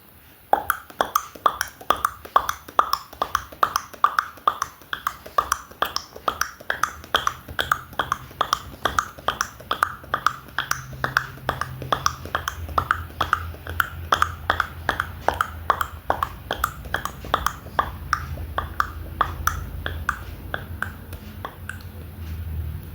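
At a mimicry show, a voice imitates horse hoofbeats with rapid, steady clip-clop clicks repeating for over twenty seconds, picking up slightly toward the end.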